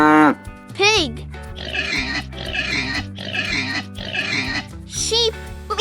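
A pig grunts and oinks in a run of four rough, buzzy bursts of roughly equal loudness, close and clear over light background music.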